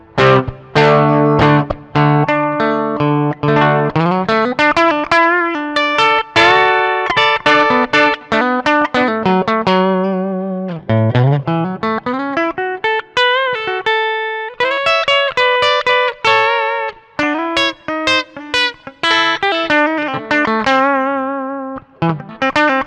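A Glarry GTL semi-hollow electric guitar played on its bridge pickup rings out alone with a bright tone, picked notes and strummed chords and sliding runs, loud and steady throughout.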